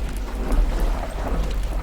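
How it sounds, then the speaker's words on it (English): Ominous storm ambience in the video game Paradise Killer: a steady low rumble with hissing rain-like noise, continuous and fairly loud, with no voices over it. "Apparently, that is not done making ominous storm noises."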